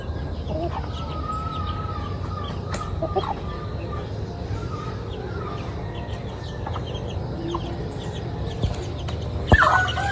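Mixed heritage chickens cluck and call intermittently at a farm over a steady low background rumble, with a sharper squawk near the end.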